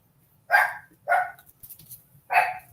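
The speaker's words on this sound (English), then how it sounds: "Sorry for the barking, guys." A dog barks three sharp times nearby, with a couple of softer yips between the barks.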